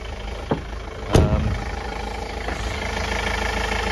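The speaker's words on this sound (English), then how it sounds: "Engine's running really well." A car engine idles smoothly and steadily up close, with a single brief thump early on before the even hum settles.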